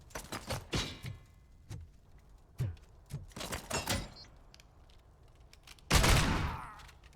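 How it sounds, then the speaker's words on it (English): Gunshots from the game Robocop Rogue City come as sharp, separate cracks in uneven bursts over several seconds, ending in one heavy, louder blast, with no talking. "I didn't really expect him to be shooting me here."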